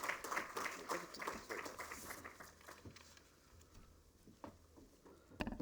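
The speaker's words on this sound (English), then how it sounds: "with a warm round of applause" Warm round of applause from a conference audience welcoming a keynote speaker, dense patter of many hands clapping that gradually thins and fades, with a few louder claps at the end.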